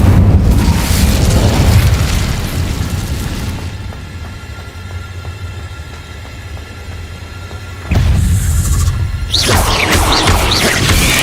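An Incendio fire spell explodes in Hogwarts Legacy with a loud, close fiery boom that fades into a lower rumble, then a second burst flares up near the end.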